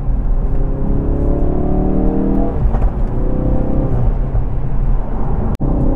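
A Ford Focus RS Edition drives along a flat, straight, bumpy road, its engine humming steadily up close with rising and falling revs as gears change, plus a brief sharp knock near the end.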